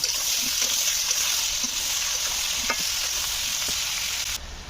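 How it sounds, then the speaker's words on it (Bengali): Bottle gourd and potato fry together in oil, a bright continuous sizzle with occasional stirring knocks, steady and close before briefly dropping at the end. "লাউ আর আলু বেশ কিছুক্ষণ ভেজে নিয়েছি।"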